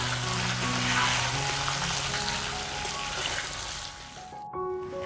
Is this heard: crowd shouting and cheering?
no